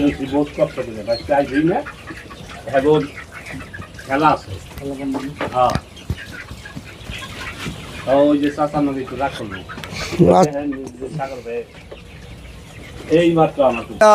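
Broiler chickens cluck and squawk busily and close by while feeding, with overlapping calls throughout and occasional short bursts of movement.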